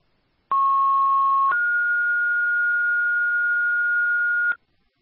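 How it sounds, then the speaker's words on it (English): A two-tone fire dispatch alert for Putney sounds over the radio: a steady lower tone for about a second, then a higher sustained tone for roughly three seconds, clean and loud before it stops. "Tone is for Putney."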